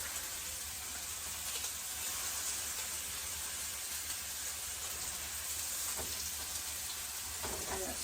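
Tomato sizzling in a pan with melted butter, a steady, close, unbroken crackling hiss with no one talking.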